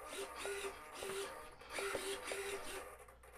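Servos moving the ailerons on a Carl Goldberg Ultimate 10-300 RC biplane, faint short buzzing whirs repeating in quick back-and-forth bursts, close by and quiet.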